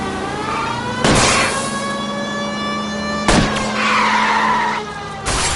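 Tires squeal in a PS4 video game car chase as a car skids, with loud broadband screeches at about one, three and five seconds over a steady engine drone, no voices.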